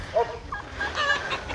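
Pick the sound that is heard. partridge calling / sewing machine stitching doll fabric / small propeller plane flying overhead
partridge calling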